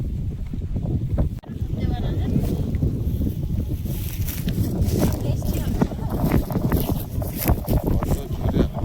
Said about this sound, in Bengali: কত জোরে হাওয়া হচ্ছে।